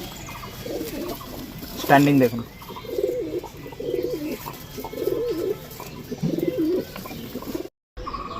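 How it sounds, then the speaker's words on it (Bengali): Pigeons, including a female Rampuri-type pigeon, giving repeated low rolling coos close by, with a brief louder call early on and someone speaking over part of it. "এটা মাদি পায়রা"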